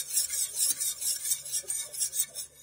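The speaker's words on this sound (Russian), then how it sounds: "тщательно венчиком перемешиваю" A whisk is beaten through a mixture in a bowl, producing quick, steady, rhythmic scraping strokes that are close and moderately loud, with no voices.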